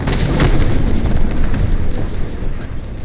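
A particle cannon blast in a video game, a loud, dense rumbling explosion that sustains for about three seconds with a sharp burst near the start, alone without talk.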